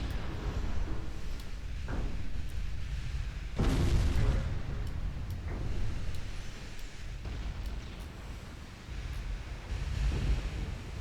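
Naval shell and torpedo explosions in a ship combat strategy game sound as a steady roar of surf and wind with a heavy blast burst near four seconds and several duller thuds spread throughout.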